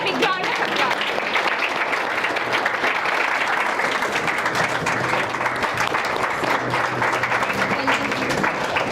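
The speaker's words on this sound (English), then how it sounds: "Give him a big round of applause." An audience at a Telangana youth talk event claps loudly and steadily for an honoured guest. The dense applause runs unbroken for the whole stretch, with some crowd murmur mixed in.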